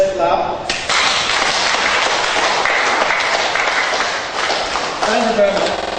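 Audience applause at an academic lecture on grants, loud dense clapping that swells in after a brief voice and carries on steadily, with speech faintly mixed in near the end.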